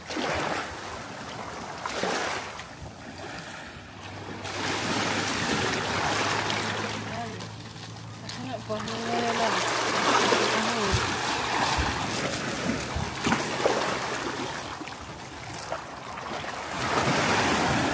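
Waves wash onto a fine sandy beach in Davao Oriental, a continuous loud roar of surf mixed with gusty wind buffeting the microphone and a low steady hum in the middle stretch.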